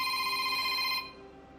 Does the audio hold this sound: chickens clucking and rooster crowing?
no